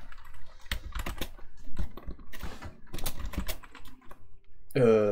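Clicky computer keyboard typing in quick irregular bursts of keystrokes close by while entering commands in PowerShell, ending with a short rising tonal sound.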